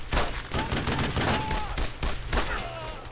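Gunfire in Brothers in Arms: Road to Hill 30 rattles in dense, loud bursts of rifle and machine-gun shots, near and continuous with brief gaps, while a voice can be heard under the firing.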